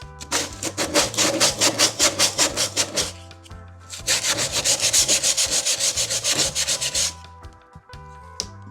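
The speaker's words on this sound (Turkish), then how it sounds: "Şurasını zımparaladım." Rhythmic hand sanding of an old wooden shelf, quick back-and-forth rasping strokes in two bursts with a short pause between, close and loud.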